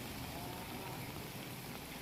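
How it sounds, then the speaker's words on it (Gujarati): Gentle rain falls over Gadhada taluka in Botad as a soft, even, steady hiss, with faint indistinct voices underneath. "ધીમી ધારે વરસાદ વરસી રહ્યો છે"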